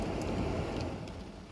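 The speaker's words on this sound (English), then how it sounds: "It's starting to rain pretty heavy." Heavy rain pours steadily as a broadband roar, loud and close, likely drumming on a parked car near a cemetery, with no voices.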